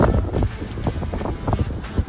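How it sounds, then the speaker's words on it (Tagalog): Gusty wind buffets the microphone in low, rumbling bursts, a steady roar that swells and dips over a couple of seconds. "Balabag yung hangin dito."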